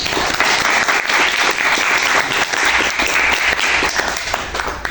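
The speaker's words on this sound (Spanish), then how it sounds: "Proseguimos con un fuerte aplauso" Loud, dense applause from a large audience at a round-table discussion, steady clapping with no break for the full length, close and filling the room.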